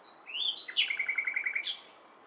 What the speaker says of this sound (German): Geweckt wurden wir bereits vor einiger Zeit mit diesem Vogelkonzert.